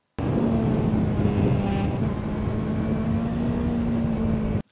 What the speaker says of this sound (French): j'ai donné un léger coup d'accélérateur en sortie de virage